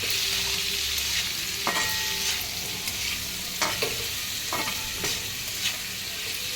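A spoon stirs a salted raw papaya and sesame curry mixture in a frying pan, giving scraping strokes every second or so over a constant close sizzle.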